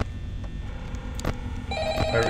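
A telephone rings inside a Five Nights at Freddy's game, an electronic bell tone that starts partway through over a low hum and brief clicks, fairly faint and with no one talking.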